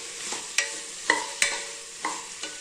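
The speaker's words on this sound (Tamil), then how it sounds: "இந்த புதினா, மிளகாய், கொத்தமல்லி இதெல்லாம் போட்டுக்கலாங்க. போட்டு நல்லா வதக்கிக்கலாங்க." Vegetables with mint, green chilli and coriander sauté in a pan for wheat rava kitchadi, a soft steady sizzle broken by a handful of sharp clinks and scrapes of the stirring spoon, close and without speech.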